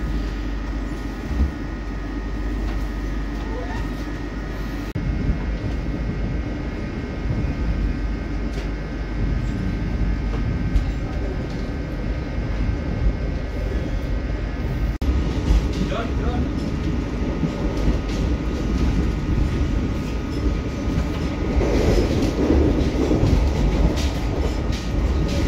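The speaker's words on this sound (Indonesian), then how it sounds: "957 KA Lodaya 92 diberangkatkan kembali dari stasiun Ciamis." A KA Lodaya passenger train pulls out of Ciamis station in Indonesia, heard from on board as a steady low rumble with faint rail clatter building gradually over about twenty-five seconds.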